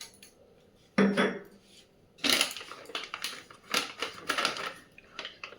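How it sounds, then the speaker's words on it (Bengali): Coffee is poured into a glass coffee jar in several separate bursts of loud, rattling clatter, with quiet pauses between the pours. "এই কফি শিশিটাতেই ভাবছি কফিটা ঢেলে রেখে দেবো।"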